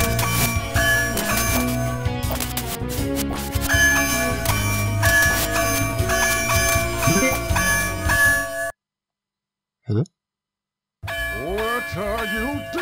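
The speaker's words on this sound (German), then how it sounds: "So schnell kann ich die Glocken gar nicht läuten." Bells ringing in the Spider-Man video game The Amazing Spider-Man vs. The Kingpin, a busy run of clanging, dinging tones over game music, then a brief silence and a single short chime before the music resumes.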